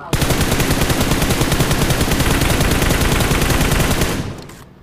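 Sustained automatic gunfire from the video game PUBG on the Miramar map rattles on loudly for about four seconds as a dense, rapid burst, then cuts off and fades.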